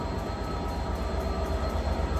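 Class 67 diesel locomotive idling at a station, a deep throbbing engine rumble with a steady pulsing beat, loud and close, without voices.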